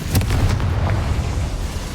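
Confringo fire spell blasting in Hogwarts Legacy, a deep booming explosion with a rumbling low roar and a few sharp cracks at the start, sustained for a couple of seconds.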